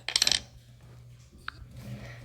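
A coin dropped onto a hard surface gives a quick burst of bright metallic clinks and rattles that settles within half a second, close and clear, followed by quiet.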